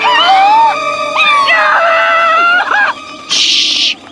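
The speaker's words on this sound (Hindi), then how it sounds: "ये कुत्ते चलाना बंद करो" Several dogs howl and yelp loudly in overlapping, wavering cries, then break off into a brief high-pitched squeal.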